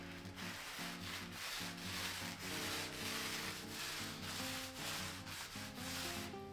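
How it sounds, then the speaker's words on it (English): A foam roller spreads waterproof sealer across a bathroom wall, giving a continuous close rubbing swish in repeated strokes, loud and steady with brief pauses between passes. "I'm gonna use this foam roller, start mixing it up, and apply it as I go."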